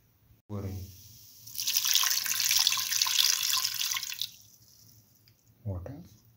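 Water pours steadily into a pressure cooker over a sautéed split mung bean mixture for a few seconds, a loud broadband rush between brief bits of speech before and after.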